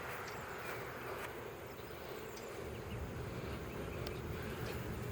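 Honeybees being moved into a hive box make a dense, continuous buzzing drone, steady and close throughout with no talking.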